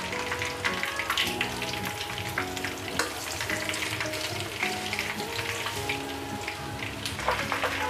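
Honey lemon chicken wings deep frying in hot oil, a steady dense sizzle and crackle with bubbling pops throughout, close and continuous with no voices.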